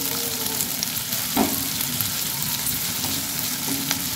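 Onions and green chillies fry in hot mustard oil with a steady, close sizzle and a soft stir or scrape near the middle; no one speaks.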